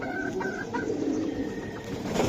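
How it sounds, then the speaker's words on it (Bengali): Giribaz pigeons kept as a pair in a loft, cooing and calling steadily at close range over a dense, constant background hiss, with no voices. "এটা হলো আবার জেমস ভাইয়ের সাথে আমাদের বসের কবুতর জোড়া দেওয়া হয়েছে।"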